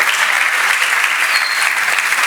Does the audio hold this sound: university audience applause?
yes